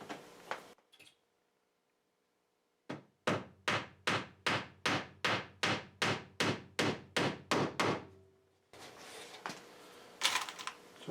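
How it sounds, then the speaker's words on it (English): About fourteen sharp hammer blows on nails, struck in a steady, even rhythm, loud and close, between stretches of quieter background noise. "Hammering nails."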